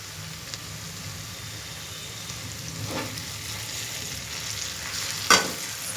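Okra and ridge gourd curry frying in a pan, a steady close sizzle with occasional stirring scrapes, loudest near the end with a sharp clatter.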